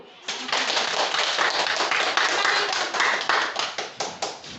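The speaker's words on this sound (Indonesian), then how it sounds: "Tepuk tangan dulu." Students in a school classroom clap their hands in applause, a dense, brisk patter that starts abruptly, holds steady for several seconds and then thins into fading final claps.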